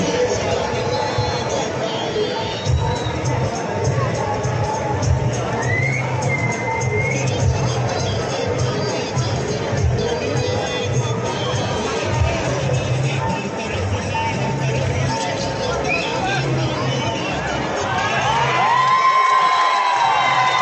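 A large crowd at an outdoor Govinda dahi handi festival cheers, whoops and shouts steadily for a team building a six-tier human pyramid in Chiplun. Children's shouts and an announcer's voice rise above the sustained loud din.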